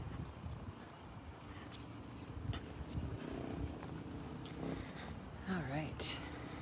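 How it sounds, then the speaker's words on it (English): Cicadas buzzing on the Appian Way outside Rome: a faint, steady high-pitched drone that runs throughout, partly masked by nearby talking and low outdoor background noise. "And the cicadas, I hope you can hear them. They're so loud."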